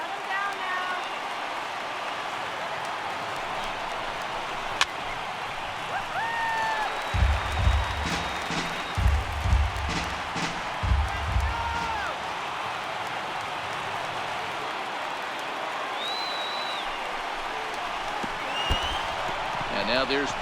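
A baseball stadium crowd of about 21,000 roars in MLB The Show 18, a broad, steady swell of cheering with a few louder thumps partway through, and no talk over it.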